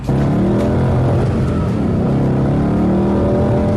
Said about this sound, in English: You see what it's doing? It's like bogging down.